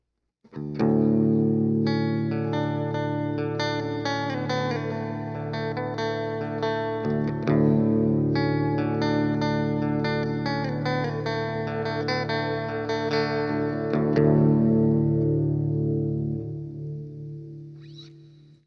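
Sustained electric guitar chords played through a Boss reverb pedal set to a long hall or cathedral-type reverb, each strum ringing out and blooming into a wide, lingering wash before a long fading tail.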